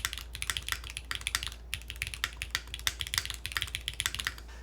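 Steady, fast typing on a Game Boy DMG themed mechanical keyboard, a close, crisp stream of clacky keystrokes with an uneven rhythm and no talking.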